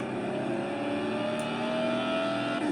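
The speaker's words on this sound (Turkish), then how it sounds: "Böyle çalıştık araba gidiyoruz." Steady mid-pitched car engine hum in a car dealer video game, rising slightly as the vehicle drives along, continuous and fairly close with no talking.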